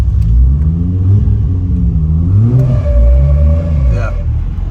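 A 1000 hp Toyota Supra with a 2JZ engine accelerates hard on the Autobahn, giving a loud, continuous rumbling drone that rises and dips through gear changes. A voice seems to be talking over the engine.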